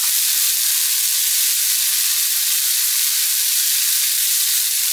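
Tomato sizzles and simmers in a hot pan for a quesadillas de Jamaica dish, a steady loud hiss with no breaks.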